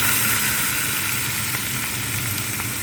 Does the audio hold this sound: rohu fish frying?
yes